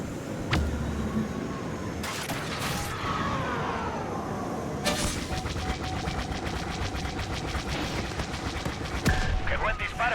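Rapid bursts of starfighter blaster fire in Star Wars: Squadrons crackle over a dense mix of engine roar and explosions, with a voice speaking over the action.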